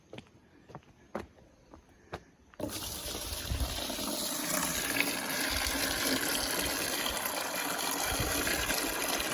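Water from a rainwater tank surrounded by trees, used for rinsing clothes. A few faint knocks and clicks come first, then the water bursts into a steady, loud gushing flow that runs on continuously.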